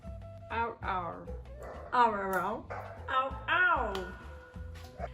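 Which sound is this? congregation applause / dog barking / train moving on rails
dog barking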